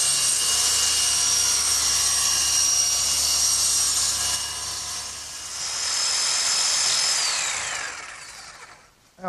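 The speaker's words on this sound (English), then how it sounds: "my electric jigsaw sure makes quick work of finishing up that slot" An electric jigsaw cuts a slot in wood with a loud, continuous high-pitched whine lasting several seconds, dipping once midway, then winding down at the end.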